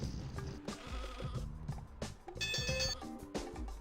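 Cartoon sheep bleats from the Looney Tunes: Sheep Raider PS1 game, several short bleats amid bouncy game music and sound effects, fairly quiet overall.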